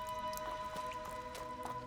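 Water drips in the video game Sable as a few sparse, soft plinks over a faint steady ambient tone.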